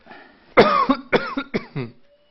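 A few harsh, raspy coughs in quick succession, close and fairly loud, followed by a short pause.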